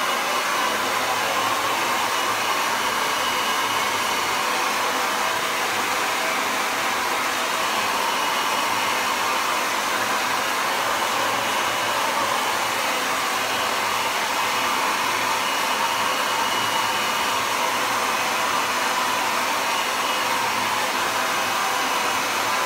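A hair dryer blowing steadily at close range during a haircut prank, a loud continuous whooshing hiss holding at an even level with no voices.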